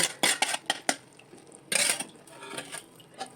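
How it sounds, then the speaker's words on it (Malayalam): Fried fish being stirred into masala for fish pickle: a spoon clinks and scrapes against the vessel in quick irregular bursts, close up, with quiet pauses between strokes. "അതിനകത്തേക്ക് ഇട്ട് കൊടുത്തതിന് ശേഷം അതും നന്നായിട്ട് ആ മസാലയായിട്ട് യോജിപ്പിച്ചെടുക്കുക ഇളക്കി യോജിപ്പിക്കുക"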